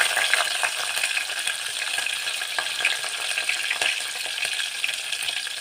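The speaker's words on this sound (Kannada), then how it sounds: "ಈಗ ಸಾಸಿವೆನ ಹಾಕ್ಕೊತಾ ಇದ್ದೀನಿ ಹಾಗೆ ಮೆಣಸಿನ್ಕಾಯಿನೂ ಹಾಕ್ಕೊತಾ ಇದ್ದೀನಿ" Mustard seeds and green chillies hit hot oil for South Indian vermicelli upma and set off a loud, continuous crackling sizzle with fine popping throughout, close by and without speech.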